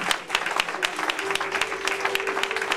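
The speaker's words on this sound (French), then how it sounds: "Applaudissez quand même." Church congregation applauding continuously, a dense bed of many hands clapping at moderate distance, with a faint sustained tone running underneath.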